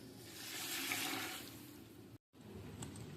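Water pours steadily in a broad rushing stream onto seeraga samba rice, close by, then cuts off briefly before a quieter trickle resumes.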